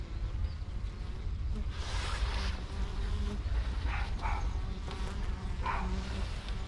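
A little bee buzzing close by in a steady drone on a sunny day, with faint background sounds and no talk.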